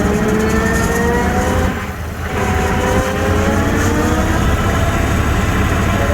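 A tractor drives a new Schulte mower through a 1000 PTO, a loud, steady droning engine with a whirring drive line, dipping briefly once and then holding constant up close.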